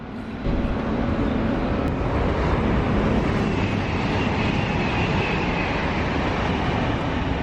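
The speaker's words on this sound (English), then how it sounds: "Here comes the Viva rail." A Vivarail train bound for Bedford rolls in steadily, a broad continuous rumble and hiss of wheels and motors that holds loud and close throughout, with no voices heard.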